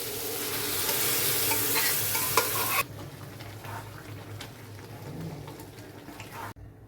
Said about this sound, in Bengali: এখন আমি ডালটা ঢেলে দিচ্ছি।